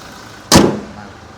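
A car door on a Toyota Revo four-door pickup slams shut once, a sharp close thud with a brief rattle, against quiet background.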